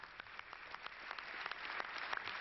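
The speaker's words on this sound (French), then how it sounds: "Le Premier ministre doit attendre la fin des applaudissements pour reprendre le fil de sa déclaration." A parliamentary audience applauds a French Prime Minister's statement on the release of hostages in Iraq in 2004, giving a continuous, fairly distant and faint patter of many hands clapping.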